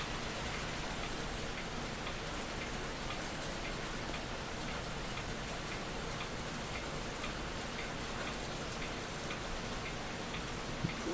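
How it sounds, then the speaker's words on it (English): Steady rain falls on a surface, a dense, even hiss of drops with faint ticking patter, continuous and moderately quiet, with no voices. "Listen to the sound of the rain while I'm working here."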